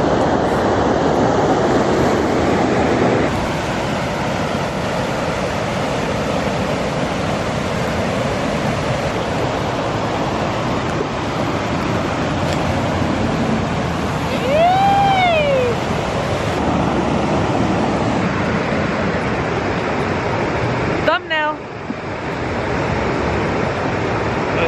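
A river rushes past in a continuous, full-bodied roar of flowing water, steady throughout, with a brief high whistle-like tone midway and a short dip near the end.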